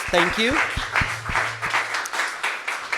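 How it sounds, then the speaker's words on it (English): Applause from an audience greeting guests at a startup talk, a spread of claps running steadily for several seconds under a short spoken thank-you at the start. "let's give a round of applause to our beautiful guests"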